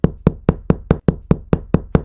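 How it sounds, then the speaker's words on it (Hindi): Ten loud, evenly spaced knocks on a door in quick succession, sharp and close with brief ringing decay, heard alone. "इतनी तेज तेज दरवाजा कौन खटखटा रहा है?"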